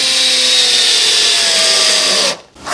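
A power drill driving screws whines loudly and steadily at close range for over two seconds, then cuts off briefly before starting again.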